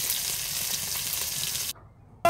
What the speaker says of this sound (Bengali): আর এখানে দিয়ে দিল হচ্ছে পেঁয়াজ, রসুন, কাঁচামরিচ সব কিছু দিয়ে আবারও একটু ভেজে নিচ্ছে।